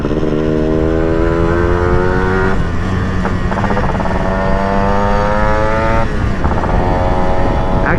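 A Yamaha RX 135 five-speed two-stroke motorcycle revs and pulls through gears while being ridden, its rising engine pitch dropping at each shift, loud and close with wind rush.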